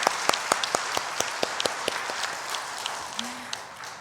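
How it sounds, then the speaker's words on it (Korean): A church congregation applauds a women's choir after its hymn, steady clapping filling the room with sharper individual claps standing out, and a brief voice rising partway through. "하나님께 영광 돌리신 여전도의 찬양대에게 또 격려와 축복의 박수를 드리면 좋겠습니다"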